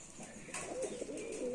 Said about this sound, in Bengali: পায়রাগুলো খুব সর্ষে খাচ্ছে ভালো